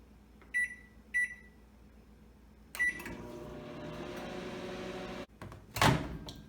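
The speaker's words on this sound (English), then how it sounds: "I'm going to microwave in increments of 1 minute." A microwave oven melting crayons hums steadily after a few keypad beeps and a door closing, then it stops with a sharp clack as the door opens.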